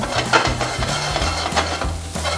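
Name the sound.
snails sautéing in butter in a pan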